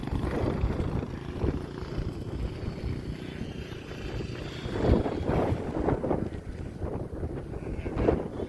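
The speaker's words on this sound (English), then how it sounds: "it's really windy here now" Strong wind buffets the microphone in steady low rumbling gusts at a sheep-handling facility, swelling louder around the middle and end, with no talking.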